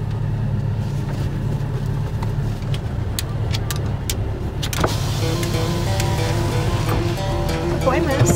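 A car's electric power window sliding down partway through, a rising motor whine over a steady idling engine rumble, close and clear, with a dog's excited whines and a person speaking around it.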